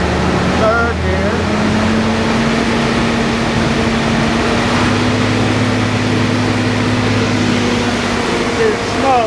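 Willys CJ2a jeep with an L134 engine driving steadily in third gear, a continuous low engine drone with a rising tonal whine and rumbling wind or road noise throughout.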